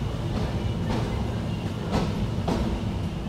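The Sonar Bangla Express, hauled by a modern locomotive with meter-gauge carriages, rolls out of Dhaka's Kamalapur station, its steady rumble broken by a few rhythmic wheel clacks close by.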